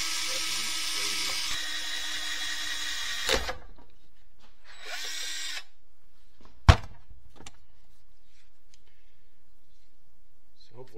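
A power drill bores out a part inside a Chevy Getrag HM290/NV3500 transmission, starting with a sustained whine and then giving short stop-start bursts, followed by one sharp metallic knock, close to the mic in a quiet workshop.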